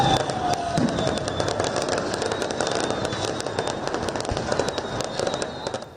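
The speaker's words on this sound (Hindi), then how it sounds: "गोली चल गई पाकिस्तान में, आतिशबाजी नहीं हुई, गोली चल गई" Gunshots ring out in a Pakistan street as a rapid series of sharp cracks and pops, some distant and some nearer, over a constant crowded street din.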